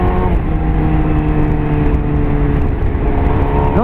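Suzuki SRAD motorcycle engine revving loud inside a tunnel, a constant heavy droning roar with strong low rumble and a pitch rising at the very end, echoing amid other traffic.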